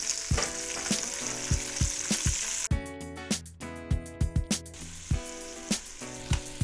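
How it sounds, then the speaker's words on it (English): Bacon and sliced yellow onion frying in a pan, giving a steady close sizzle with sharp pops and crackles and some clattering stirring strikes partway through, with no talk. "Once some of the fat has started to render out of the bacon and it's starting to get crispy, we're going to add 1 medium yellow onion."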